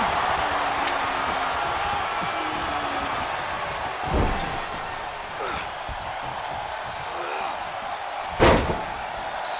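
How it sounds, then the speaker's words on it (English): A wrestler slams an opponent onto the mat during a falls-count-anywhere tag match, giving two heavy thuds about four seconds apart over a steady arena crowd roar. "Slamming their opponent into place."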